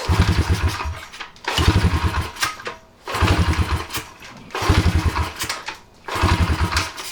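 An old motorcycle engine being cranked repeatedly, five loud rhythmic chugging bursts separated by short pauses as it tries and fails to fire, close and without talk.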